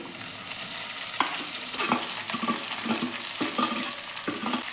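Chopped okra tossed into a hot pan with curry leaves and green chillies, a loud, steady sizzle with repeated scraping stirs, close up and with no talking.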